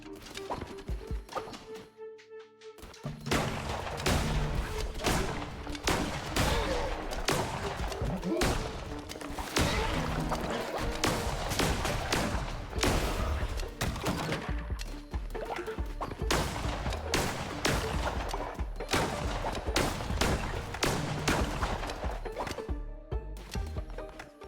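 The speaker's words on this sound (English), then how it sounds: "Ignore the gunfire." Rapid gunfire and hard impact hits from the video game Cult of the Lamb, dense and continuous throughout, with sharp repeated cracks layered over busy game effects and no speech.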